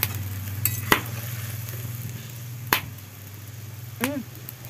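Eggs added to a pan for a Bengali egg and potato curry, a steady close sizzle running throughout, broken by a few sharp clicks of a utensil against the pan.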